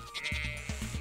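A goat in the farming video game Stardew Valley bleats in a few short wavering calls, close and clear, with game music softly underneath.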